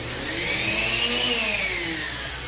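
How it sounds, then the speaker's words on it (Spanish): An Oster reversible blender running, a loud, steady motor whine with a high-pitched tone that rises and then falls slightly, close by and alone. "Y esta licuadora ya está funcionando."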